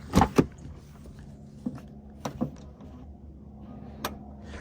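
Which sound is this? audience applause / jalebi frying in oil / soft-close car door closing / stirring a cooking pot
soft-close car door closing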